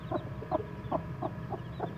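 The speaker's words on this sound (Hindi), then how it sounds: "अब ये है माशाल्लाह हमारी सील मुर्गी के बच्चे जी, चेक करें," An Aseel hen with her freshly hatched chicks makes soft, regular low clucking, about six evenly spaced calls, close but quiet, with a faint hum beneath and no talk over it.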